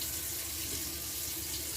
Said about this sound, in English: first thing we want to do is wash our hands.